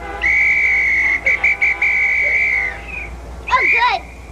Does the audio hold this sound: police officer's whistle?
yes